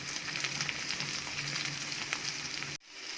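Tomatoes sautéing in a pan for prawn masala, a soft, steady sizzle close by that cuts off abruptly near the end.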